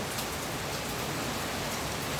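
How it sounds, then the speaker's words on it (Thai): Steady downpour of heavy rain, a loud continuous wash of drops hitting surfaces, close and unbroken. "ฝนตกแรง"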